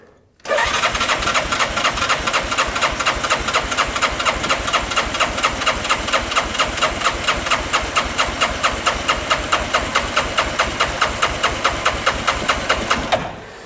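A Bennche 500 UTV engine with a knocking, smoking motor cranks with the throttle wide open during a compression test, a loud, rapid and evenly pulsing starter churn that runs steadily for several seconds before cutting off.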